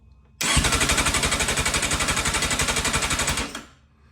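A Kawasaki Thundercat motorcycle engine cranks over on the starter at about 350 RPM with fuel and ignition off, giving a loud, close, steady rhythmic chugging for roughly three seconds before stopping, with no talking.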